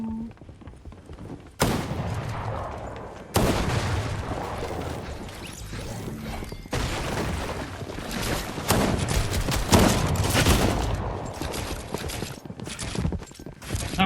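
Rapid bursts of gunfire from the Fortnite video game crackle in dense, loud volleys, broken by short pauses and sudden restarts.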